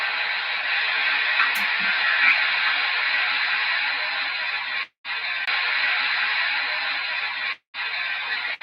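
Hissing static from an amateur radio tuned to a distant station, a steady band of noise broken by two brief dropouts of near silence.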